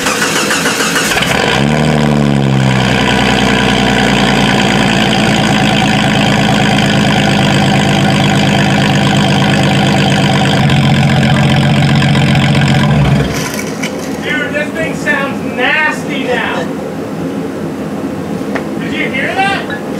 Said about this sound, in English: We'll do a cold start and we'll let you hear what it sounds like.